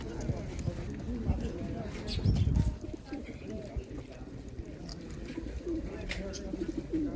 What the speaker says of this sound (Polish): Wesolutkie miłe ptaszki.